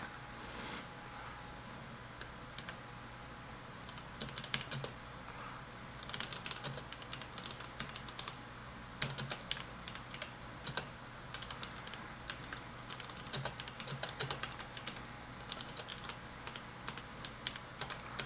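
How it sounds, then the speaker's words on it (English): Steady, rapid clicking of keys on a Tandy 1000 HX computer keyboard, typed in quick bursts, close up, with no talking. "I am typing and trying to do a video at the same time."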